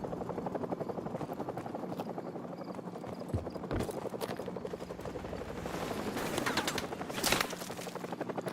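A helicopter in the Call of Duty Modern Warfare Remastered video game thumps loudly and continuously, its rotor chop joined by bursts of gunfire and sharp impacts.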